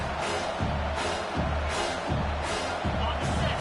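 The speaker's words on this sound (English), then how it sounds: "This crowd bringing the energy and noise early." A large American football stadium crowd roars in a steady, dense wash of noise, swelling in repeated pulses, with no clear voices standing out.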